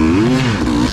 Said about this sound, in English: you can see, hear the motor struggling a tiny bit